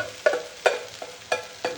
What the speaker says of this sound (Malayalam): ഇതൊന്ന് വഴറ്റുക ഒന്നല്ല കുറച്ച് വലിയ തീയിൽ വെച്ചിട്ട് തന്നെ വഴറ്റണം